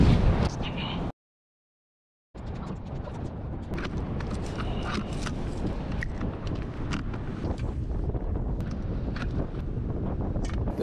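Gusty wind buffets the microphone on a beach during razor clamming, a steady rough rumble that cuts out briefly and then continues with scattered thumps and crackles.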